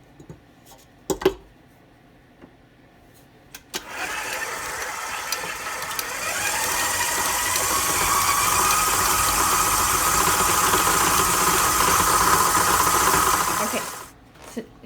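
An electric mixer creaming butter and sugar for chocolate chip cookie dough, starting after a few clicks and clunks, then whirring steadily and loudly for about ten seconds before switching off.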